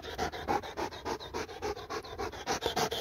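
A dog pants close by in fast, steady, rhythmic breaths that continue without a break. No voices are heard.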